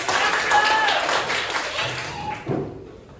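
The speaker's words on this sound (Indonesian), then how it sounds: "Tepuk tangan dulu semuanya." A classroom of children claps and cheers in a burst of applause that fades out, with voices mixed into the noise.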